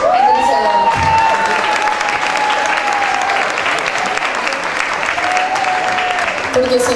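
Audience applause fills a room at an album launch, steady and dense throughout, with cheering voices mixed in and a sustained tone sliding along beneath the clapping.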